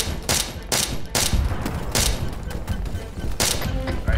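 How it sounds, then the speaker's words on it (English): Gunfire in the Arma military game: several sharp shots burst out at irregular intervals over steady background noise, loud and fairly close, with no talk over them. "I'm opening fire."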